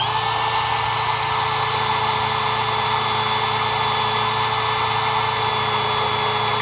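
A power drill runs steadily, driving a screw into a trailer deck, a loud continuous whine with a constant motor hum and no pauses or talk.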